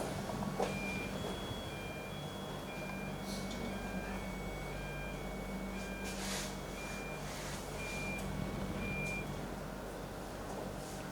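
A siren's steady electronic tone, heard as a device moves away from it in a classroom Doppler experiment, repeats in short beeps at slightly shifting pitch over a constant loud background hiss and hum.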